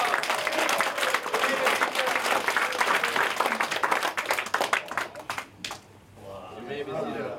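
A seminar crowd breaks into a big round of applause, loud dense clapping that thins out and fades after about six seconds, with voices audible among the claps.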